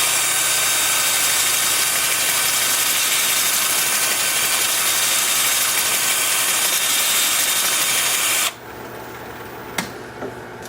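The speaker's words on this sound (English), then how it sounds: "with the lathe spinning in reverse at about 350" A wood lathe runs in reverse at about 350 rpm with a small candle holder, giving a loud steady motor hum and whir that cuts off abruptly near the end, leaving quiet room tone with a faint click.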